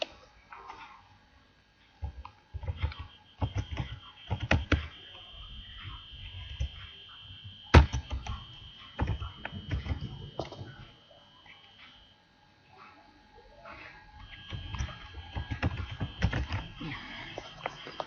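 Irregular bursts of clicks and taps from a computer keyboard during office data entry, close and fairly quiet, with short pauses between flurries.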